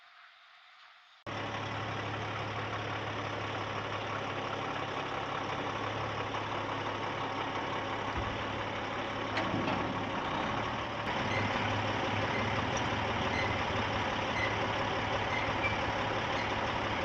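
A farm truck engine idles steadily and close while being hooked onto a tanker, a constant low rumble starting abruptly after a second of quiet and running on alone with small shifts in loudness.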